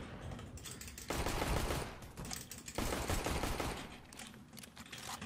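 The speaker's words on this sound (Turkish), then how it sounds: "Ben bunu tabancayla alırım." Pistol shots ring out in a CS:GO match in two dense clusters of sharp cracks, separated by a brief lull, fairly close but quiet overall.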